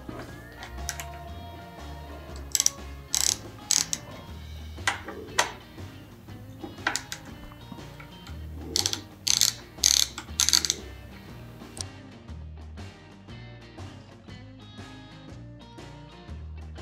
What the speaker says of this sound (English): we're going to go ahead and remove the handlebars using a 6 millimeter Allen socket.